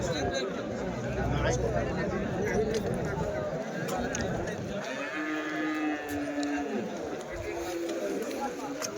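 Cattle moo in the crowded bustle of a weekly Sunday cow market in Chintamani, where calves are being sold, the low calls rising over steady outdoor chatter and nearby voices talking.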